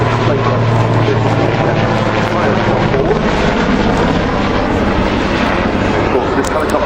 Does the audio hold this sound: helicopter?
yes